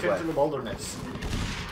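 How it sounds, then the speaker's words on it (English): Dull, thumping gunfire from the video game Inside thuds in a low, rapid cluster beneath a muffled background, while a voice speaks over the start. "Remember that weird thumping noise you heard? A fucking gun."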